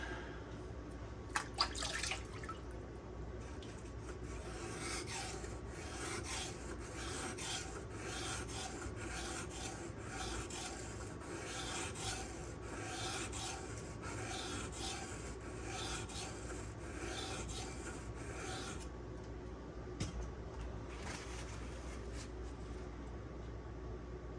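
A Spyderco Sage 5 knife with Rex121 steel is sharpened on a stone, giving a continuous, rhythmic rasping scrape of steady strokes close up, with a few faint clicks near the start.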